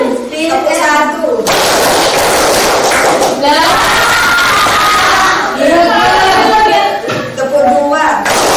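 A classroom of children clapping a single-clap pattern on a teacher's cue, the loud, dense burst of hands ringing out among the voices of the room and then giving way to talk.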